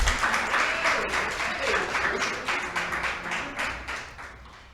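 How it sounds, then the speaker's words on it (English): An audience at a creative writing showcase applauds steadily for a performer, a dense patter of many hands that holds on and slowly tapers, with no talking over it. "Another round of applause for Mr. Don Dixon now."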